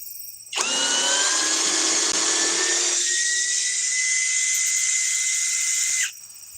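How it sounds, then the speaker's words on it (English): A cheap 800 inch-pound cordless drill spins up suddenly and runs loud and steady for several seconds, its whine dropping slightly in pitch partway through before it cuts off abruptly. "Not bad for a cheap drill."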